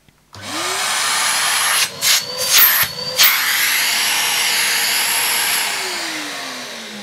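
A Numatic James JVP180 vacuum cleaner starts up close by and runs with a loud, steady whine, its pitch dipping briefly in a few bumps midway before it winds down near the end.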